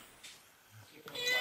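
Cat meowing: a couple of short, faint mews under a noisy background, followed by a louder rising burst near the end.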